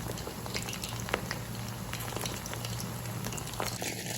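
Chicken kabab fries in a pan with a constant, close crackling sizzle of hot oil and fine spatters throughout.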